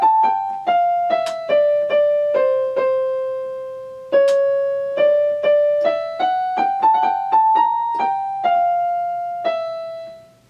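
A solo violin plays a slow, lyrical melody in a chamber violin duet piece, a steady run of bowed notes that rise and fall in pitch, close and clear with no talking.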